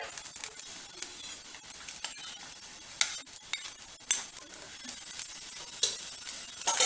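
Repeated scraping and clinking of a spoon stirring thick wheat rava upma in a pan, with a soft sizzle underneath and sharper scrapes every second or so.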